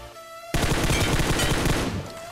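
A sudden loud burst of rapid automatic gunfire in the BGMI battle royale game, a dense fusillade of shots lasting under two seconds before cutting off, after a quiet lead-in.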